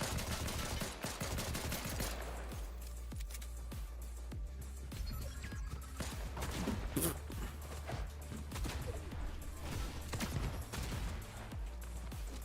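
Pistol gunfire in a video game, a fast run of sharp, punchy shots over a constant low rumble, loud and continuous throughout.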